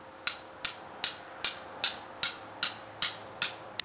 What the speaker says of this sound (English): I carry a 4-ounce hammer, but I could use a rock.